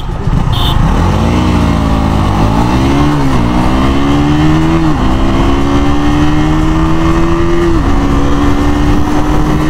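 A KTM Duke 200 and a Yamaha R15 V4 race flat out, engines roaring loud and close through rising gear pulls, each shift causing a brief dip before the pitch climbs again, with heavy wind rush throughout.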